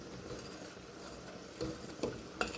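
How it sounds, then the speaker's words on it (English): Pomegranate jelly stirred in an old electric pressure cooker insert, a soft steady bubbling hiss broken by three brief scraping knocks of the spoon against the pot, close and quiet. "Just keep stirring this."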